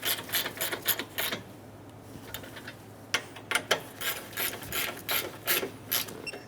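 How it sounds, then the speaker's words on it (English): A ratchet snugs down the top bolts on a 2003–2007 Honda Accord V6 AC condenser cooling fan assembly. Several close runs of rapid clicking pawl strokes come in short bursts, alone against a low steady hum. "Install the two top bolts. Snug the bolts down."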